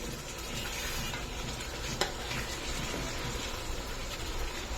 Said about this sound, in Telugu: టూ సైడ్స్ ఇట్లా కొంచెం ఫ్రై లాగా అవుతుంది ఫ్రై చేసుకోవాలి